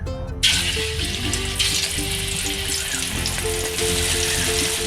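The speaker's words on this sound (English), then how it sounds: "So now I'm going to fry the meatball using medium flame." Meatballs for Penang Nyonya bak steak fry in a pan over a medium flame, giving a steady, loud, close sizzle that hisses continuously throughout, with light clinks of utensils and no talking.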